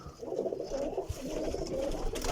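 Ferozpuri Teddy Jainwan pigeons coo in a steady low murmur through the whole stretch, close by and moderately loud, with no talking.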